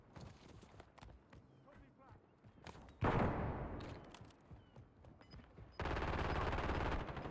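Video game gunfire in Warzone, with sharp bursts and a heavy loud rattle of shots breaking in around the middle and again near the end, while a player talks over the action.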